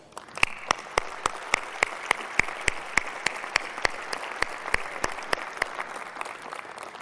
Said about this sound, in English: I think we owe the team at Sony a round of applause